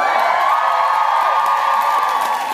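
A big convention-panel audience cheers and whoops loudly and steadily, a dense wall of crowd noise that holds for the whole stretch.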